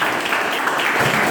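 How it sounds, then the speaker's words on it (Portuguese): Brief burst of congregation applause in a church service, a dense, even patter of many hands clapping at close-moderate distance, sustained without pause for its short length. "as palmas louvam ao Senhor"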